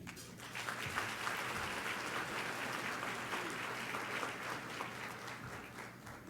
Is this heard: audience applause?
yes